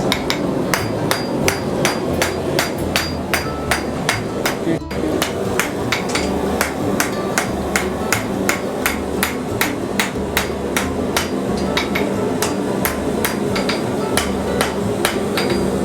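Blacksmith's hammer striking hot metal on an anvil, a steady rhythmic series of sharp ringing clangs, about two per second, loud and close, with music playing underneath.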